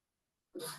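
A single sharp sneeze bursts out after a moment of near silence, close and fairly loud.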